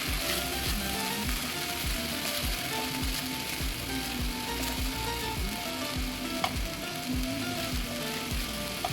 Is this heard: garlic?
yes